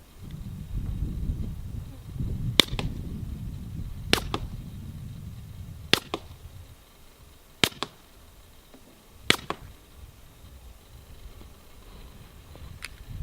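An integrally suppressed SRT Arms MKIII pistol fired from about 100 yards away, five sharp, thin cracks spaced roughly two seconds apart over low outdoor rumble and wind.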